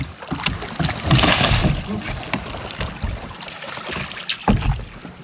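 Splashing and sloshing water as a kayak rolls over in a practice capsize, with scattered voices nearby and a bigger splash near the end.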